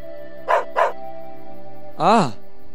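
A dog gives two short barks close by, then one longer yelping bark with a rising and falling pitch a moment later, against a steady low background hum.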